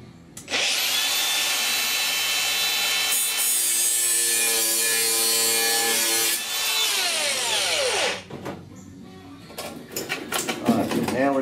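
A power tool cuts a metal patch panel for rust repair on a 1969 C10 truck roof, a loud sustained high-pitched whine and grind that drops off after several seconds into scraping and handling noises.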